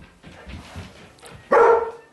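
A dog gives a single sharp, loud bark near the end, after some quiet shuffling indoors.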